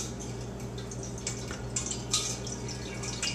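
No-rinse sanitizing solution poured into a homemade winemaking container, giving a soft liquid trickle and dripping with faint splashes, close and fairly quiet, with no talking.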